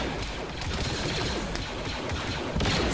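An automated turret firing in a military shooter game, with dense, continuous rattling fire and scattered crashes piled into a loud, steady wall of combat noise.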